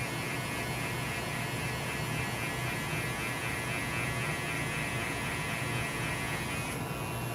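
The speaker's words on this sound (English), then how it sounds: "I'm gonna try to get rid of the guideline that we created with the trimmer." An electric hair trimmer cuts a burst fade haircut, producing a continuous low buzzing hum at a quiet, even level with no speech.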